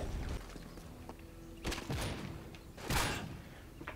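Two sharp gunshots from a one-on-one shooter video game match, spaced about a second apart, fairly faint and distant over a quiet background.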